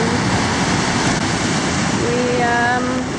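Ocean waves and wind roar continuously at sea off the coast of Ecuador, a loud, close wash of surf with buffeting wind noise on the microphone.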